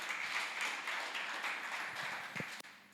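A church congregation applauding in unison, a steady dense wash of clapping held at moderate volume for a few seconds before breaking off into a couple of separate taps.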